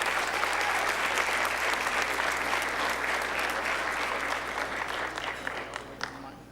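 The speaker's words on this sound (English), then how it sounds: "Give a nice round of applause for Jimena Nunez Rivera." An audience at a school superintendent awards ceremony applauds steadily, a dense sustained clapping from a crowd that gradually thins toward the end, with a few voices cheering over it.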